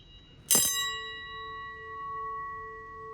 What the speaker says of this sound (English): Here's a real fire bell.